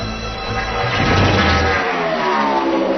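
Joey Logano's Home Depot Toyota Sprint Cup car roars past at speed during NASCAR qualifying in Texas, a loud, close engine howl that swells and then falls away as it passes.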